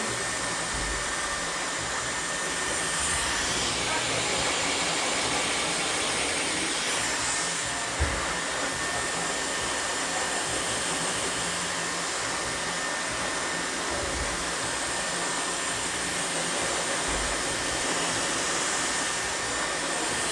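A hair dryer blows steadily to dry the roots during a blowout, a loud, close, continuous whooshing roar that holds almost unchanged for about twenty seconds, with no talking.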